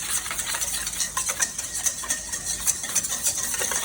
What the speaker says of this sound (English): we're supposed to whisk this up together before we do anything else